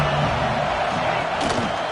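Steady roar of a college football stadium crowd during an Arkansas State game, a dense continuous wash of noise at even loudness with a brief swell near the middle, no clear individual voices.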